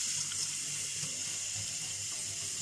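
Tap water runs steadily over red ant eggs being rinsed in a sink, a constant close splashing hiss with no pauses and no talking.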